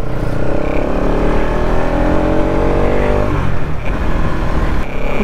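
A Bajaj NS200 motorcycle engine drones loudly and close while riding on a rural road, holding a steady rumble with slight shifts in pitch as the throttle changes.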